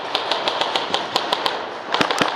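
Airsoft guns firing at a corner during an outdoor game, a run of sharp snapping shots in an uneven rhythm, about a dozen cracks with a quick cluster near the end, fairly close and free of talk.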